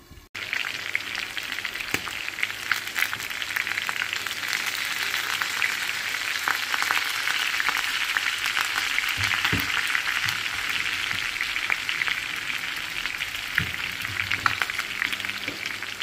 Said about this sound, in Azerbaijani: ondan sonra əti qızardacağım.